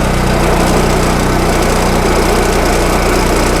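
A Yamamoto CP-4000 walk-behind wood chipper runs with its engine at a steady loud drone, close by, with constant vibration and no voices.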